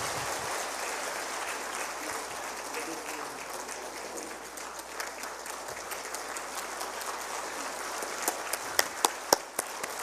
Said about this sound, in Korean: 우리 뜨거운 박수로 격려합니다